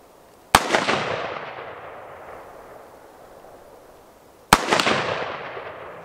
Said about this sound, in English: Just got done shooting guns